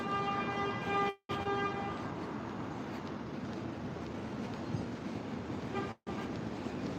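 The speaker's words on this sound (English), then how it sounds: "Who's honking the horn? Why? Why are you honking the horn?" A car horn honks in Central Park, New York, a sustained tonal blast at the start that cuts off into steady outdoor park noise and then returns briefly near the end, fairly close and loud.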